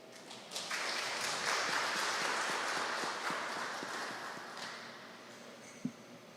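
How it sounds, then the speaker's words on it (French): Steady applause from a congregation at a Bible study, many hands clapping continuously for several seconds before tapering slightly, with one sharp louder clap near the end. "Je vous demande d'applaudir à nouveau."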